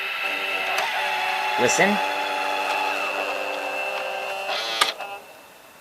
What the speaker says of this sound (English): the belt was rubbing against the bottom side of the head, so and it made some weird noises